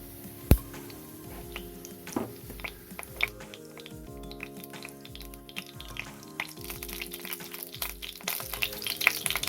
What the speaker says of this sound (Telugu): ఇప్పుడు ఆయిల్ వేడయ్యాక మనం కొంచెం షాజీరా యాడ్ చేసుకుందాం